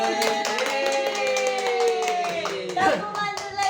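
Children in a classroom clap a rhythmic pattern together, the tepuk mantul, with quick sharp claps in a steady beat over a sung or chanted voice, close and lively.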